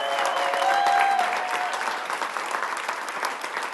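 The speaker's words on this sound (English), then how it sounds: "We want to give a little round of applause" An audience claps steadily for a Special Olympics Unified soccer team at an indoor event, the applause dense, close and continuous throughout with a little crowd murmur beneath it.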